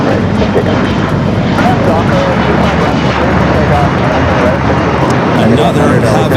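A heavy jet airliner, a Delta flight arriving from Tokyo Haneda at LAX, gives a loud, continuous engine roar close by with a broad rumbling wash throughout, under talk.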